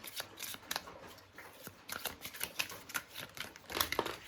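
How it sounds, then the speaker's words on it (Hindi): Tarot cards shuffled by hand during a reading, giving a quiet run of papery flicks and soft slaps at an irregular rhythm, with a few sharper snaps as cards slip out of the deck. "तो कार्ड्स खुद ही निकल रहे हैं फॉर पाइल 1"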